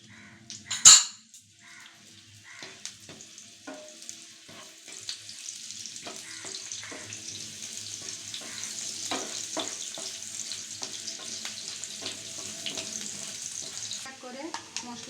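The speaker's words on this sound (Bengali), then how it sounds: "এবার আমি পেঁয়াজ কুচি দেব।" Chopped onion dropped into hot oil, opening with a sharp splash, then a steady moderate sizzle with scattered stirring clicks that builds and continues throughout, no speech.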